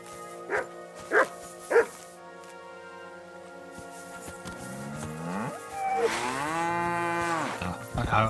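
Cattle moo in the Kingdom Come video game, with long drawn-out lows in the second half after three short barks from a dog. No one speaks.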